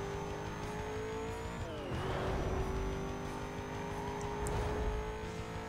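Race car in the video game Need For Speed Most Wanted, its engine whining at high revs, dropping sharply on a gear shift or braking, then climbing again as it accelerates, loud and continuous.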